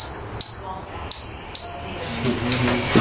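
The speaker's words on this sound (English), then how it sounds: "The bell is cool." Bicycle bell on a KTM Lykan 274 bike rung three times, bright metallic dings with a sustained ringing tone, close and loud, the first strike standing apart from a quicker pair before the ringing fades into quiet background noise.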